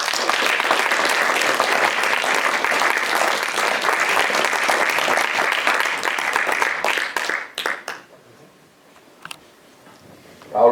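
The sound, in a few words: theatre audience applause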